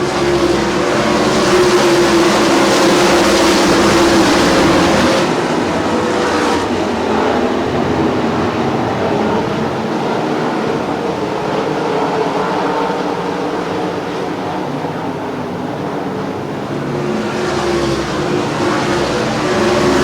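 Sprint cars roar around a dirt track at night, their engines a dense, continuous drone that swells and fades as the pack passes down the back straight into turn three, heard from the grandstand without any audible speech.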